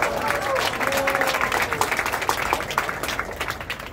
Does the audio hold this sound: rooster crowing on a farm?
no